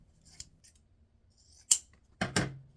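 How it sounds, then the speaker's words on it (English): Scissors snip through ribbon at a slant, with a quick sharp cut followed by a louder double snip near the end, close and alone in a quiet room. "fold the ribbon onto itself and cut at a slant"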